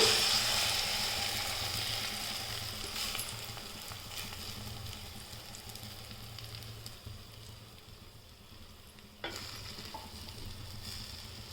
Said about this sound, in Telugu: ఇప్పుడు మనం ఆల్రెడీ కలిపి పెట్టుకుని ఎగ్ అందులోకి వేద్దామండి